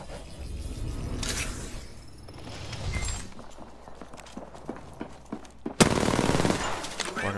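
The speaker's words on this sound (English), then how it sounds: "I am taking fire, friends." Flatline rifle gunfire in the Apex Legends video game, loud automatic bursts at the start and again near the end, with scattered shots, clicks and game effects between them.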